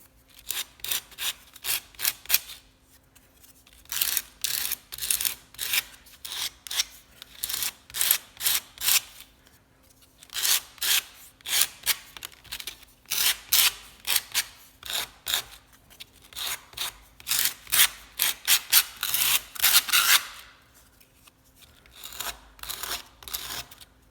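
A wooden carving is smoothed by hand with sandpaper along its edges, giving repeated bursts of dry scraping strokes in quick rhythmic runs separated by short pauses, close and fairly loud, with no talking.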